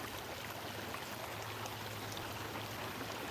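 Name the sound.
small creek flowing in a park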